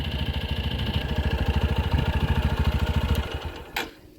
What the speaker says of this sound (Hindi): अभी मैंने जैसे बाइक स्टार्ट करी है